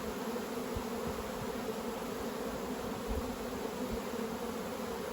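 Honey bees swarm around an open, healthy beehive, their buzz a constant, close drone with a few low thumps beneath it and no voices.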